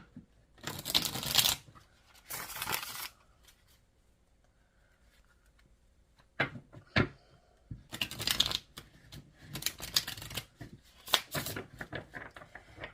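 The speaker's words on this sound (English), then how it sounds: "I'm going to go ahead and just pull a few cards from the tarot" Tarot cards riffled and shuffled in several crisp, close bursts, with brief pauses between them and quieter sliding and flicking as cards are drawn.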